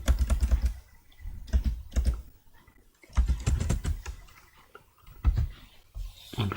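Rapid clicks of typing on a computer keyboard while entering spreadsheet formulas, in uneven bursts and pauses, fairly close and clear with no talk over it.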